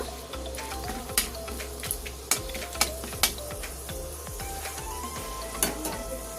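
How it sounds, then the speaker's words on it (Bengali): Cardamom pods and cinnamon pieces sizzle in hot ghee with a steady frying hiss, broken by several sharp clicks and scrapes of a spoon stirring the pan. "চারটে এলাচ ফাটিয়ে দিলাম আর দু টুকরো দালচিনি এবার এইগুলো একটু ভেজে নেব"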